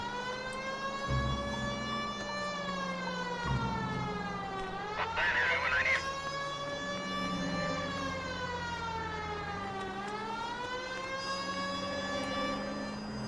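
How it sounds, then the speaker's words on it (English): A wailing emergency vehicle siren in a driving video game rises and falls in long sweeping cycles, loud and steady for the whole stretch, with a low engine hum beneath it and a brief burst of noise midway. "I can turn off the siren, I guess."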